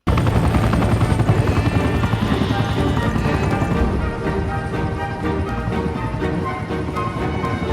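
A helicopter's rotor thumps rapidly and continuously, loud and close, with a constant whining turbine over the beating blades.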